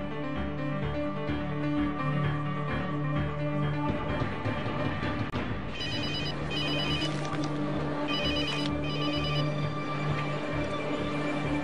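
A telephone rings continuously in an indoor setting, its bright repeated electronic trill steady and fairly loud throughout, with a layer of background music and no talking.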